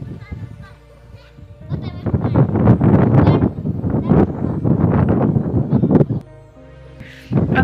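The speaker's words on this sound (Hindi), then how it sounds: "इतनी ठंडी ठंडी हवा चल रही है" Cold wind blowing in wintry Shimla buffets the microphone with a low, gusty rumble, most noticeable at the start and end while a person talks through the middle.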